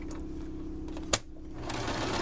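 Sewing machine running a zigzag stitch through fabric for a baby changing mat, a steady close whirring hum with a single sharp click midway, then slightly louder stitching toward the end.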